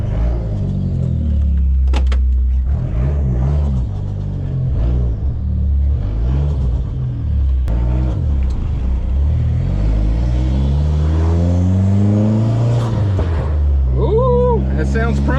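A minivan with an SRT4 engine swap revs loudly up close, its rumbling exhaust rising and falling through several throttle blips, with people talking over it.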